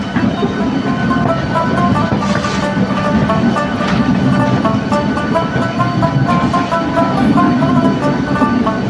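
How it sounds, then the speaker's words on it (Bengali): A Duronto Express train rolling past at close range, a loud continuous rumble of wheels and carriages with steady rail clatter and a metallic hum throughout the whole stretch. "এটা দুরন্ত এক্সপ্রেস কিন্তু দুরন্তর বগি মাত্র একটা"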